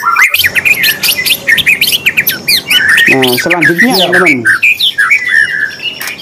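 A murai batu (white-rumped shama) songbird sings a rapid run of bright, varied whistles and chirps close to the microphone, while someone speaks briefly at the start and middle.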